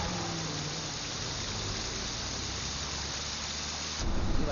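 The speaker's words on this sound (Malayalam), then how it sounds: "ഭയങ്കര മഴ" Heavy monsoon rain pours steadily in Wayanad, Kerala, a dense unbroken hiss of downpour that swells louder in the last half-second, with no voices.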